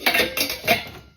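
Dog dishes clatter as they are washed, three quick bursts of ceramic and metal knocking against each other close by, with no talk.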